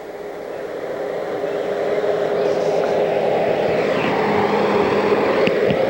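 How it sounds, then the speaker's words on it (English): A 1942 Ford tractor in good running condition rumbles steadily, its engine drone building slightly in loudness and then holding at a constant, fairly close level for several seconds. "looks like an old Ford tractor."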